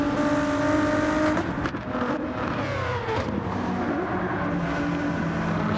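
Race car engine from Gran Turismo 7, a Ford GT, droning loudly and steadily with harmonic whine, pitch dipping and climbing again as the car brakes and accelerates through a corner.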